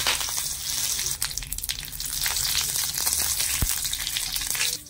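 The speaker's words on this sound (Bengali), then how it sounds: "তেলটা গরম হয়ে গেছে, সামান্য একটু কালো সর্ষে দিয়ে দিলাম" Black mustard seeds and curry leaves sizzling in a little hot oil, a continuous bright crackle with popping seeds, close and loud throughout.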